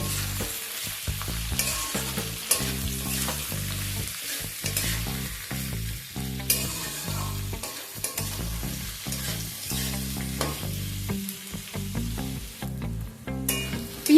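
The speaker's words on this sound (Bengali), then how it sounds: "এবার পেঁয়াজটাকে ভেজে নেব।" Sliced onions with salt frying in a pan for Bengali mutton kosha, a steady close sizzle with repeated stirring scrapes and clatter running throughout, no talk.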